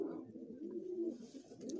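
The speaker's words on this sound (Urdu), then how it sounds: "یہ تقریباً 18 کبوتر ہے جو اس بھائی نے بھیجا ہے" Pigeons cooing nearby, a soft, low, throaty coo rolling continuously over about two seconds, faint and close with no voices.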